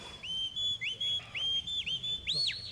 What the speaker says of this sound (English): Quick whistle to turn them again.